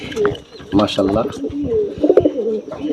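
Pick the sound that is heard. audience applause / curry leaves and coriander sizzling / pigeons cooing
pigeons cooing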